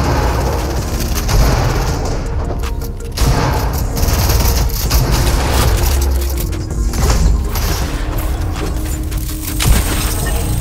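Dense bursts of rapid video game gunfire with booms and mechanical clatter from a J Balvin Cup match played on a laptop, loud and continuous with no voices over it.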